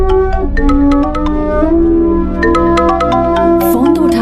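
Phone ringtone playing a bright repeating melodic pattern of short tones, loud and close, with no voices over it.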